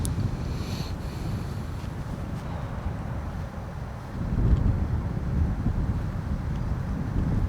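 Wind on an outdoor disc golf course at a tournament, a steady low rumbling buffet against the microphone that swells slightly partway through, loud and continuous with no other clear sounds.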